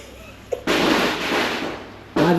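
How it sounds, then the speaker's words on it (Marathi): A single pop, then a dense, unbroken crackle of firecrackers for over a second, loud and close, with a voice briefly heard afterward, on Lakshmi Puja day. "चला चला फटाके वाजले"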